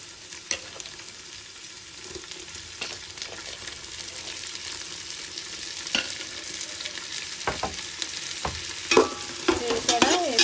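Onions and tomatoes fry in hot oil for Gongura chicken biryani, a steady close sizzle with stirring scrapes and clatters that grow busier toward the end.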